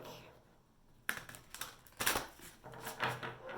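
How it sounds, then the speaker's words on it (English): Tarot cards being shuffled by hand: a quiet pause, then a run of crisp riffling and slapping bursts, close and moderately loud, with no talk over them. "I'm shuffling them a couple more times so we can get some messages for you this week."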